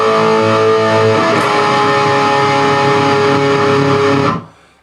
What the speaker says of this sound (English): the intro just consists of power chords